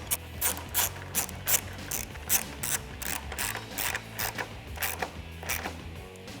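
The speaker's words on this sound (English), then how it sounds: "going to use my 1/4-inch drive ratchet to tighten them up" A 1/4-inch drive ratchet tightens plastic grille bolts on a 2015-2017 Ford F-150, giving a rapid run of crisp clicking bursts in quick repeated strokes, close and fairly loud with no talking.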